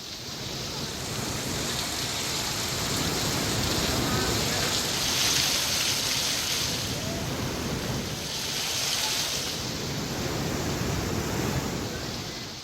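Heavy, continuous monsoon rain during flooding near a river, a steady dense hiss that holds at a constant loud level throughout with no pauses.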